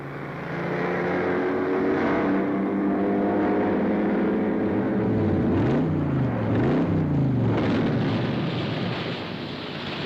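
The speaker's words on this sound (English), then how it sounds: "the sports car racing scene really grooves" Sports cars racing on a track, a loud continuous engine roar with pitch swoops and Doppler dips as cars pass close by, wind buffeting the microphone.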